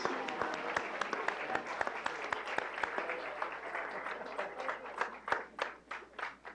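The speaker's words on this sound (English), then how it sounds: "Let's give our volunteer coordinators another round of applause." An audience applauds with brisk, steady clapping that swells toward the end, heard from a slight distance.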